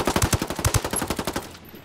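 Rapid automatic machine gun fire in the tactical shooter Ghost Recon Wildlands, a fast loud burst of sharp evenly spaced shots that ends abruptly.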